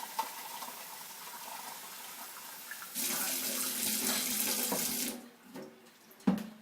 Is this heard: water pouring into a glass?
yes